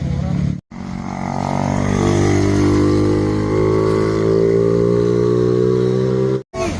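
A GS 1250 big-bike motorcycle rides past close by, its loud engine droning in a rich, steady harmonic tone that slowly shifts pitch as it passes and fades.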